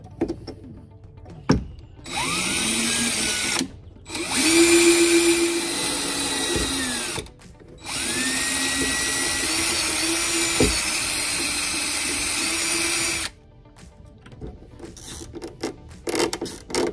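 A power drill with a 3/32 bit whirs in bursts while installing an Oracle Lighting spare-tire LED third brake light on a Ford Bronco Raptor, two long loud runs with pitch sweeps as the motor spins up and slows.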